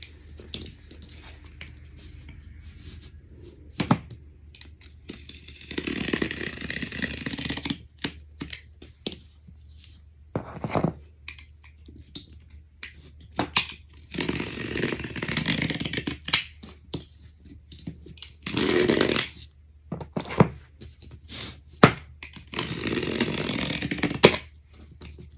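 Cardboard being cut into pieces for a bathroom mirror project, with several rough bursts of scraping and slicing separated by quiet gaps and sharp clicks, close up, with no talk.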